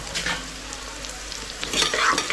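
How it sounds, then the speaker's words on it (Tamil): Onions sautéing in a pan for a rice dish, a close continuous sizzle with brief stirring scrapes, no voices. "ஸோ வெங்காயம் வந்து நல்லா ஓரளவுக்கு வதங்கிடுச்சு."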